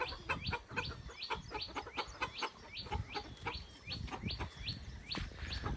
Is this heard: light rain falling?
no